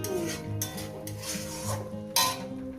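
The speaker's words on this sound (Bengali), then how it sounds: "চিংড়িটাকে দিয়ে দিলাম একটু এই দু মিনিটের মতো পেঁয়াজের সঙ্গে একটু কষিয়ে নেবো" Prawns being sautéed with onions in a pan for a Bengali doi chingri dish, with a continuous low sizzle under repeated scraping and clinking of a utensil against the pan, close and steady.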